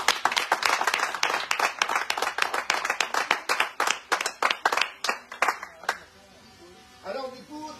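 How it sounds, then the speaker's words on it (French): Clapping from an audience on a radio show, a quick run of sharp, fairly loud claps about five seconds long that stops abruptly and leaves faint room noise. "un grand coup d'applaudissement"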